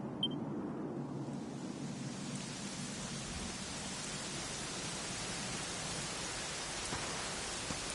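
Steady, even rain hiss from the video game Dragon Quest 11 fills the whole stretch, a soft constant wash of falling water with no talking and no distinct drops standing out.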